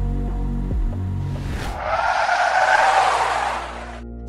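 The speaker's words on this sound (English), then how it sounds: "Screeching the car to a stop" Car tires screeching to a stop, a deep engine rumble dropping away before a loud, sustained squeal of rubber that fades out after a few seconds.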